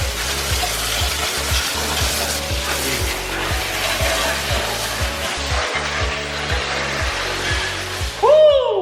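Loud, continuous hiss of high-pressure water spraying, close by, over a rhythmic pumping thump, ending with a brief squeal.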